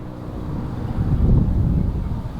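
Wind blowing hard across the microphone in a backyard garden, a steady low rumble that swells for a moment midway, with nothing else clearly audible.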